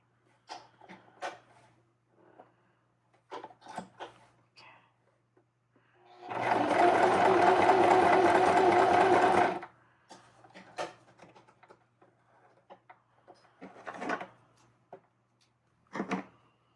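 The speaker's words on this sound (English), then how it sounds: "let's see if we can get this sewn here" A sewing machine stitches scrap fabric for a cluster embellishment in one loud, close, steady burst of about three seconds, framed by quiet handling clicks and rustles of the fabric.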